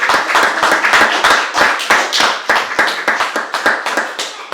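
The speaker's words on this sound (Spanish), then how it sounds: "Démosle un aplauso al Señor en esta mañana." A church congregation claps in quick, rhythmic unison during a Spanish-language service, the sharp hand claps close and loud and continuing steadily throughout.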